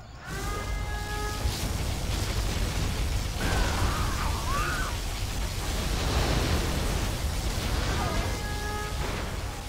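A particle cannon superweapon firing in Command & Conquer Generals Zero Hour, a loud sustained roaring blast with rumbling bursts and crackling energy that lasts the whole stretch, with faint tonal unit chirps at the start and end.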